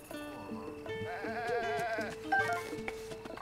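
Goats in the video game Zelda Breath of the Wild bleat in a wavering chorus, several overlapping cries over a continuous in-game music bed, close and fairly loud.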